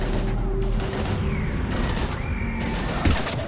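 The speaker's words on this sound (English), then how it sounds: "we're taking heavy fire" Gunfire in a Mass Effect 3 video game battle, with dense bursts and mechanical clatter over a constant loud background rumble and a sharp crack near the end.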